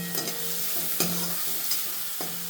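Vegetables stir-fry with ginger and garlic in oil for chow mein noodles, with a soft, quiet sizzle and a few distinct scraping and tossing strokes of a spatula, and no voices.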